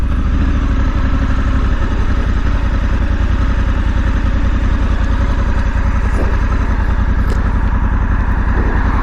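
A Honda Africa Twin motorcycle engine runs loud and close, a constant throbbing drone with a pulsing rhythm and no talking.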